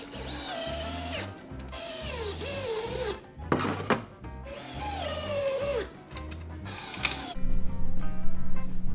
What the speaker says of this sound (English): The next thing I'm gonna do is screw a couple 2x4s to my table in front and behind the front tires